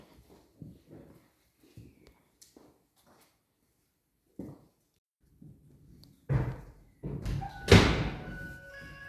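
A heavy door slams inside a disused church, a loud reverberant thud ringing out after scattered quieter knocks and bumps, with brief low voices between.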